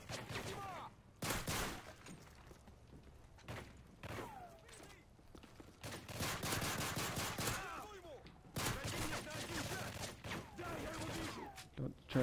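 Rapid bursts of gunfire from a Modern Warfare 3 match crackle in clusters between quieter gaps, with a player's voice talking over the shooting.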